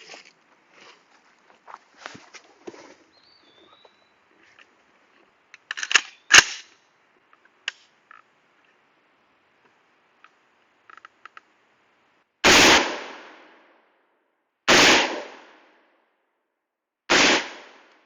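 AR-15 rifle fired while zeroing, with three loud, sharp outdoor shots spaced a few seconds apart, each trailing a brief echo, following quiet handling clicks and shuffling.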